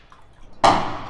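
Water splashes into a small clay oil lamp in a single sudden pour at close range, a bright liquid burst that fades out over about half a second.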